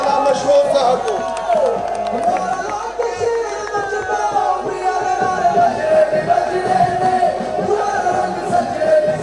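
Crowd at a Pakistan Muslim League (N) workers' convention claps and cheers as a speaker is welcomed, a loud, continuous roar of hands and whoops mixed with shouting voices, lasting throughout.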